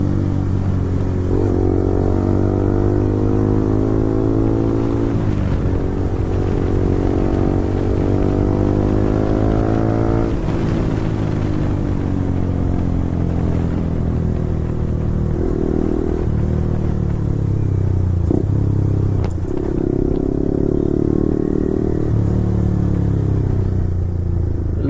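A Yamaha R15 V4 motorcycle with an Akrapovic exhaust drones loudly and continuously while riding, its engine pitch dropping in steps as it downshifts, with occasional small pops and no talking.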